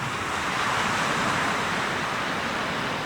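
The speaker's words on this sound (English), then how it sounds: "just to record the crashing waves" Ocean waves washing onto the shore near Inverness, a continuous broad roar of surf with steady wind-like hiss and no distinct breaks.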